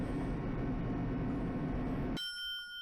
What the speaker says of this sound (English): There we were, listening to unpleasant roars as the elevator plunged deeper and deeper into the earth